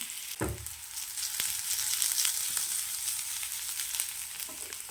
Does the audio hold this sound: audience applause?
no